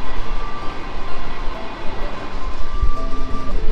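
A Jahanabad Express intercity train, travelling from Khulna to Dhaka, is heard from inside the carriage as a loud, steady rumble with rhythmic wheel clatter and a faint metallic whine.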